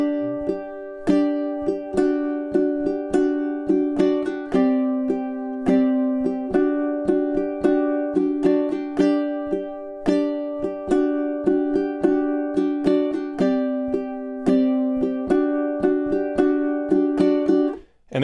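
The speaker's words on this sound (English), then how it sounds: "This is a really fun strum part." Ukulele strumming a lively rhythmic part with muted ghost strums between the accented chords, a steady driving pulse of bright close strokes for the whole stretch, no voices.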